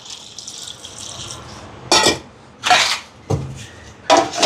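Water poured into a pot of vegetable curry with drumsticks while cooking, a few short, loud splashing pours separated by pauses, following a softer rattle and clink of utensils.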